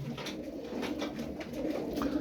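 Pigeons coo softly and repeatedly, low throaty calls overlapping in a gentle rhythm, fairly close with no talk.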